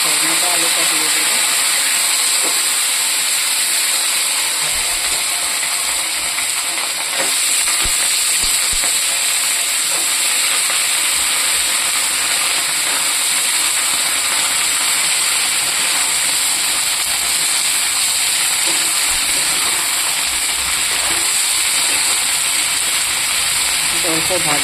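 Potato pieces frying in a hot pan, a loud continuous sizzle and hiss that holds for the whole stretch, with stirring noises and talk faintly underneath.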